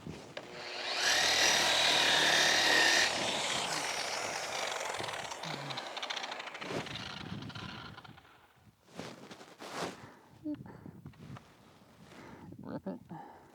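An angle grinder at about 2,500 RPM buffs Airstream aluminium with polishing compound, its whine loud and close for a couple of seconds before fading into a lower hum under a voice.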